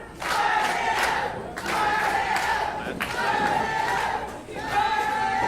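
A wrestling arena crowd cheers and chants in rising swells, a loud sustained roar that surges and dips repeatedly across the moment.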